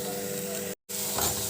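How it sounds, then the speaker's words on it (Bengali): Spice paste for samosa filling sizzles and fries steadily in a pan, a close, continuous crackle broken by a brief moment of silence midway. "মশলাটা ভাজা হয়ে গেছে"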